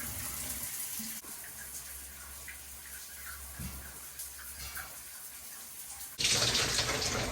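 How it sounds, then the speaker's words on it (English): Shower water runs in a steady, soft spray, with a louder gush of water at the end. "we're gonna go ahead and take a freaking shower."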